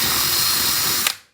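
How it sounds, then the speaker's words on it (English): A power drill re-bores holes in wooden pumpkin cutouts, a steady close whirring grind running unbroken for about a second before stopping abruptly. "I'm going to have to re-drill out all of these"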